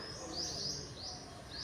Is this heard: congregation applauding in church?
no